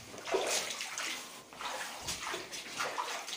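Water dripping and trickling from overhead pipes in an underground bomb shelter, a steady watery spatter with a few sharper drips and sloshes, close and fairly loud with no talking.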